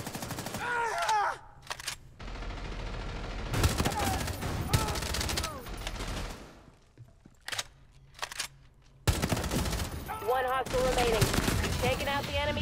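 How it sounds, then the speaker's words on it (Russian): Rapid bursts of gunfire in the Rainbow Six Mobile shooter game crackle loud and close across the clip, dropping to quieter lulls between volleys, with a voice talking now and then over the shooting. "Я начал стрелять какой-то хренью."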